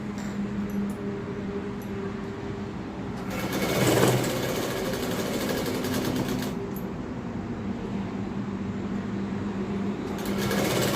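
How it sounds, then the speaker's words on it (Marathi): A sewing machine runs a straight seam on leftover dress fabric with a steady, close, rapid mechanical chatter throughout, briefly rising in intensity partway through. "अशी सरळ शिलाई मारून घ्यायची आपल्याला"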